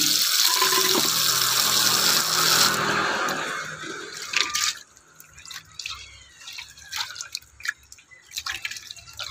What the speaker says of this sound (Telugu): ఇలా కొంచెం కల్లుప్పు వేసుకొని నీట్గా కడుక్కొని మళ్ళీ ఒకసారి ఫ్రెష్ నీళ్ళతో ఇంకొకసారి కడగండి